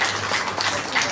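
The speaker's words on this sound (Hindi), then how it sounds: "जोरदार तालियों से उनका स्वागत करेंगे" Applause welcoming a speaker at a Hindi book launch event, a steady dense wash of clapping from an audience lasting throughout, with possible voices mixed underneath.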